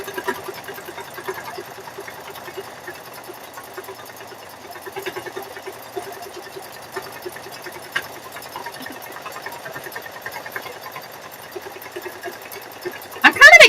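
An embroidery machine stitches out quilting and then a bear design, its steady rapid needle chatter running evenly throughout at moderate level, with a brief louder burst at the very end.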